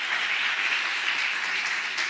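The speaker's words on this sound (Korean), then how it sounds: "주님께 영광 박수 올리겠습니다" Church congregation applauding to give glory to God, a steady, even wash of many hands clapping that is moderately loud and holds without a break.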